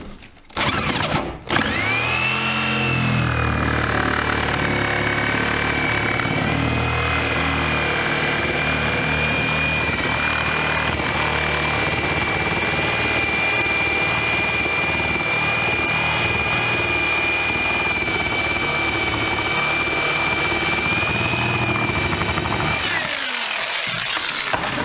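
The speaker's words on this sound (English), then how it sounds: "Now I'm going to drill another hole down here." A power drill bores steadily through half-inch OSB sheathing and a rough-cut wall, a loud continuous grinding whine held for about twenty seconds before stopping abruptly.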